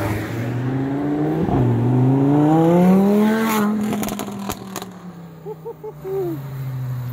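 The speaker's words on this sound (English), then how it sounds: "super cool guy in this Verde Mantis Lamborghini Huracán with a ridiculous exhaust here. We're gonna see him take off." Green Lamborghini Huracán LP 610-4 with a loud aftermarket exhaust taking off: the engine revs up in rising sweeps and pulls away, followed by sharp exhaust pops and a fading drone, with no talk.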